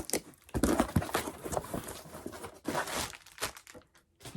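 Bubble wrap is handled and wrapped around a vintage camera with SX-70 film nearby, making close, irregular crinkling, rustling and crackling bursts with short pauses between handfuls.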